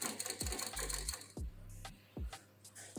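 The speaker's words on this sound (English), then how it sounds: "now we're putting it on the walking foot machine, because you can see that there's really, really thick parts" A walking foot sewing machine punches through thick layers of fabric for a stuffed toy in short bursts of heavy mechanical thumps and clatter. Three distinct stitching runs are separated by brief pauses.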